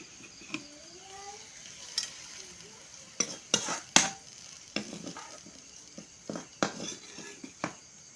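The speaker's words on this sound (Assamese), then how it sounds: "ফৰিংখিনি ভাজি হৈ গ'ল" Grasshoppers fry in a pan over a steady low sizzle, with a utensil repeatedly stirring and scraping in uneven bursts, close by and fairly loud, with no talking.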